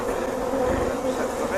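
A swarm of honey bees being gathered into a bucket hums in a dense, steady buzz, close and continuous throughout.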